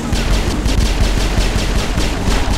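Rapid bursts of shotgun fire in the Mass Effect video game, close and loud, with shots overlapping in a dense barrage throughout.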